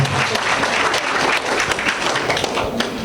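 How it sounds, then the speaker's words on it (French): An audience applauds the president of the Ivorian community at an evening community installation ceremony in Port-Gentil, producing dense, steady clapping that lasts the whole stretch, close and loud. "le président de la colonie ivoirienne, Monsieur Apollinaire, qu'on peut applaudir ce soir"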